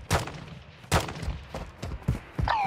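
Gunfire in a video game: several sharp, punchy shots come in irregular bursts, some loud and close, others softer and farther off.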